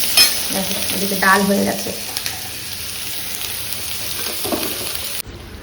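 Onions frying in a pot for a home-cooked biryani, a steady sizzle with occasional scraping stirs, while someone speaks briefly over the cooking.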